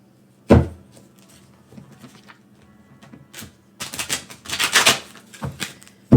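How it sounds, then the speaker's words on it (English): A deck of tarot cards being shuffled by hand in a quick burst, with sharp riffling flurries and softer card slaps, near and fairly loud, with no talking. "let me do a quick shuffle"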